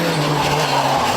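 A Citroën Xsara T4 WRC rally test car skids with loud, sustained tire squeal layered over a droning engine, close and continuous without a break.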